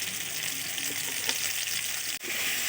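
Potatoes fry with salt and turmeric in a pan, giving a steady, close sizzling hiss throughout.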